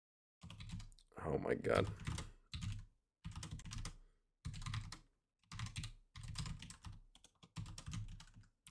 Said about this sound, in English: Hard to type when my mic's right in front of my keyboard.